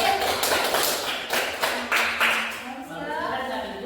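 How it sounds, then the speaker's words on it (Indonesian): A class of schoolchildren claps for themselves in a classroom, a short burst of brisk hand claps with voices mixed in, fading toward the end. "Kita tepuk tangan untuk diri kita sendiri."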